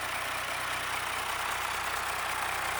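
An Isuzu 6HK1 diesel engine idles steadily nearby, a constant low rumbling drone with a fine rhythmic chug and no voices.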